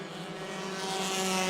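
Stock cars racing in a pack at New Smyrna Speedway, a dense, loud engine roar building steadily over a brief moment with no voices.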